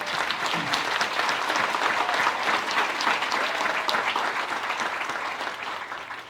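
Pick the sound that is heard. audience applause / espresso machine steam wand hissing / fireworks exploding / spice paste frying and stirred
audience applause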